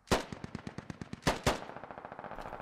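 Rapid automatic gunfire in the military shooter game Squad, a fast rhythmic burst of repeated shots with a couple of louder cracks among them, fairly close and without voices.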